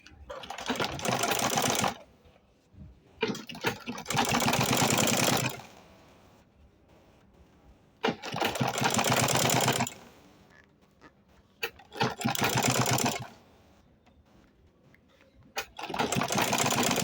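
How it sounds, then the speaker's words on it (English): A sewing machine top stitches a folded seam on a handmade zipper purse, running in several loud, steady bursts of rapid stitching separated by short quiet pauses. "the next thing is I'm going to fold it like this and top stitch it"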